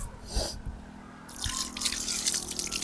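Water drips and splashes while a man rinses and combs through his beard during wudu, the Islamic ablution; a few scattered drips first, then a steadier wash of running water toward the end.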